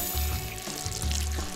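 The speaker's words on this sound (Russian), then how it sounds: "Добавьте на краску немного воды." Water poured onto paint in a craft project for painting a sphere, a short splashing pour with a low gurgling body that runs steadily for about a second and a half, close and fairly loud.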